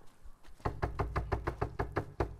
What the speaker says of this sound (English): Why are you knocking?